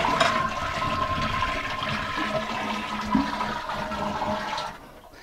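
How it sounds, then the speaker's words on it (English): A household toilet flushes with a steady rushing, gurgling surge of water that holds for several seconds, then tapers off near the end; no voices. "Flush the toilet."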